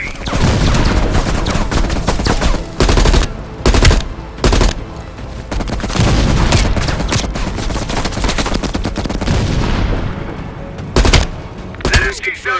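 Heavy machine gun fire in Call of Duty: Black Ops Cold War comes in loud sustained bursts with short gaps and booming impacts, while voices speak over the combat.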